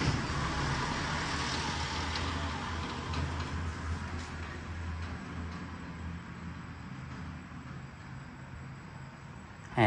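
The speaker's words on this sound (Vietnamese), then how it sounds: "tiếng xe tải chạy ngoài đường ta" A truck rumbles along the road outside a house, heard from indoors as a steady, moderately loud broadband rumble that slowly fades, with no talking.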